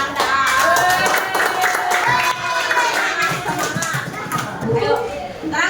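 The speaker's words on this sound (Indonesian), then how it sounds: "Tepuk tangan dulu buat Ardan." A class of children claps for a classmate, a sharp, uneven burst of many small hands with children's voices talking over the clapping throughout.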